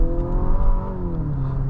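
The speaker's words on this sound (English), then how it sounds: "it makes a raspy noise from this VC turbo engine over here" Raspy, droning engine note from the VC turbo engine of a 2025 Nissan Murano Platinum, a steady mid-pitched hum heard from inside the SUV while driving, fairly loud and continuous.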